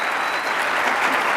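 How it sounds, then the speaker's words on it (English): Dense audience applause at a political conference panel on protecting women's sports, steady and fairly loud throughout the brief moment with no talking. "Please give her applause."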